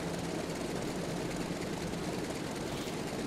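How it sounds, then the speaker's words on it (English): A Grumman F3F radial engine warms up in a flight simulator, a steady rumbling idle that holds even and loud for the whole stretch with no voices. "Now it is a radial engine, so it is going to take a little bit of time to warm up."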